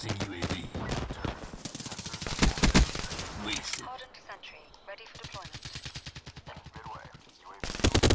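Rapid automatic gunfire from a first-person shooter game, with dense bursts of sharp shots early on, a quieter stretch of steady rhythmic firing in the middle, and another loud burst at the end, partly under a talking voice.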